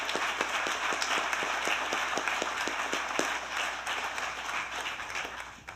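An audience applauds at a leadership campus christening and grand opening, a steady, even wash of many hands clapping at moderate distance, sustained for several seconds before tapering slightly at the end.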